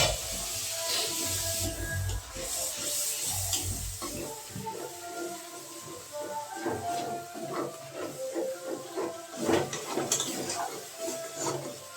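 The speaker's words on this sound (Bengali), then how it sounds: "অল্প একটু জল দিয়ে দেবো।" A little water hits frying spices in a pan for a kohlrabi and potato curry, setting off a loud, close, crackling sizzle and hiss that flares and then settles into uneven spitting.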